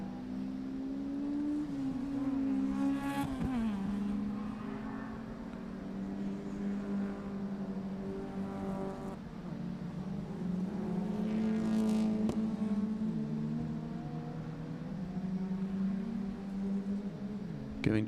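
Historic racing cars at a motor-racing festival, one a bright red Honda Civic, roar steadily past the start-finish line, the engine note rising and falling through gear changes with sustained loud droning throughout.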